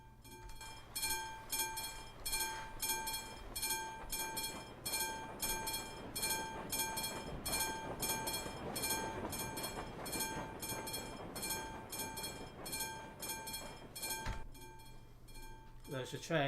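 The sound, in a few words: train passing in Euro Truck Simulator 2 video game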